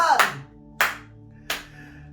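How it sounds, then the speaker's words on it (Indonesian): A congregation at an online Indonesian church service claps hands for God, three separate sharp bursts of applause spaced about evenly, each fading quickly over a low sustained tone. "tepuk tangan buat Tuhan."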